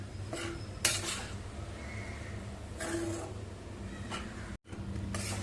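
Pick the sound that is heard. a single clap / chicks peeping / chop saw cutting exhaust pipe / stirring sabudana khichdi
stirring sabudana khichdi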